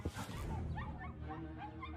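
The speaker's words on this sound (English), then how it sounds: "Puppies!" Puppies on screen give a continuous run of soft whimpers and high yips, close and fairly loud, with a busy background bed of other sound throughout.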